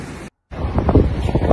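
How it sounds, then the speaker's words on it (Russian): Strong wind blows in loud, steady gusts that buffet the microphone, a roaring rush broken by one brief cut to silence. "Ветер из-за тебя такой. Вообще, сдувает вообще."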